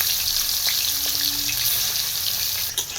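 A steady, dense hiss of fish frying in oil in a pan runs throughout, loud and close, with a faint knock near the end.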